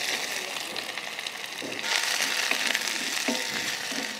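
Onions, green chillies, curry leaves and grated dry coconut sizzle and fry in mustard oil, a steady broadband crackle with stirring scrapes, louder in the second half.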